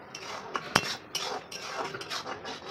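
A spoon scrapes and clinks against a pan while carrot halwa is stirred, faint irregular metallic taps and scraping strokes repeating every fraction of a second.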